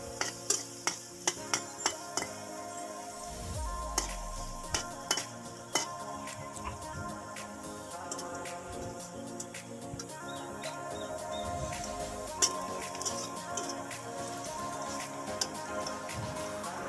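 Chopped garlic and onion fry in oil for potato bhorta, a continuous close sizzle and bubbling punctuated by sharp clicks and scrapes of a stirring utensil against the pan, with no voices.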